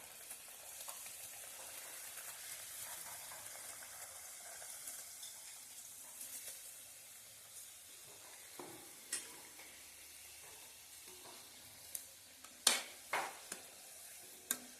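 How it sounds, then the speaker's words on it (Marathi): Modaks fried in hot oil, a steady close sizzle that runs through the whole stretch, with a few sharper clinks and splashes later on as more pieces are dropped in one at a time. "तर ना आता आपला तेल तापलेला हा आता एक एक करून मी सोडून घेते हे बघा"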